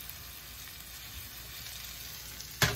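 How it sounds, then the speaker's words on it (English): Vegetables fry in a pan with a soft, steady sizzle, ending in a short clatter close by. "frying up vegetables right here"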